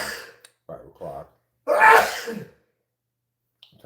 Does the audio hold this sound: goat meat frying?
no